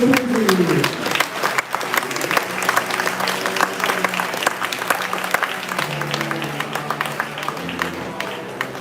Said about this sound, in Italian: Un bel applauso per i tutti.